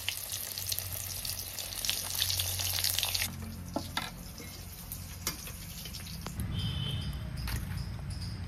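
Spinach puri fry in very hot oil, giving a steady close bubbling sizzle that runs throughout, with occasional small clinks and scrapes and a shift in texture partway through.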